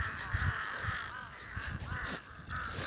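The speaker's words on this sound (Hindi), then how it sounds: "दाना दे देकर इतने सारे कौवे इकट्ठा कर दिए हैं यहाँ पर" A crowd of crows drawn in by scattered feeding grain caws loudly and repeatedly nearby, the harsh calls overlapping in a steady clamour with faint background noise.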